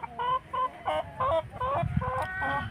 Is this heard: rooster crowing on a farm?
yes